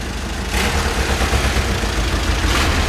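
A 490,000-mile VW Caddy diesel engine roars close and loud as it is revved, a dense, steady rumble that swells after a brief quieter start.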